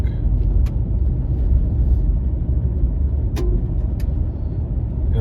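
A Ford F-150 Tremor pickup drives over a washboard dirt road, heard from inside as a steady, loud low rumble and road drone with a few brief rattles and clicks from the cab.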